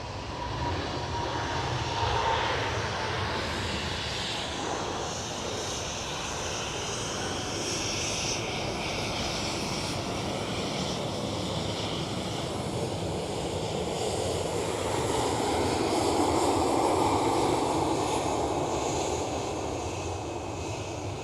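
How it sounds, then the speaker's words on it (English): A KLM Boeing 777 departs Schiphol in Amsterdam, a sustained broad jet engine roar that holds steady and swells slightly, heard from a distance outdoors with no voices. "KLM 777 is leaving"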